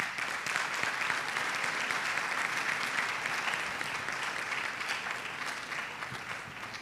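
An audience at a public university lecture by MIT's chancellor breaks into sustained applause, a dense, steady wash of clapping that holds for several seconds and fades only slightly toward the end.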